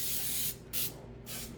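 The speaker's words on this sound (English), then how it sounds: "We have to be careful not to spray too much though, because it can be a little greasy." Pam cooking spray is misted onto a baking pan for cornbread in three short, close, hissing bursts, the first longest, with brief silent gaps between them.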